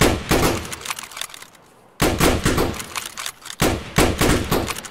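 A volley of Mosin rifles fired together, three sharp, loud cracks spaced about a second and a half apart, each followed by a short echoing decay before the next shot.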